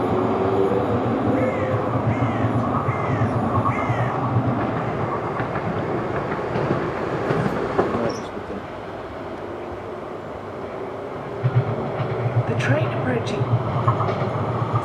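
A train pulls into the platform at Custom House station in London, a steady low rumble of rolling stock under station ambience, with a brief squeal and some clatter toward the end.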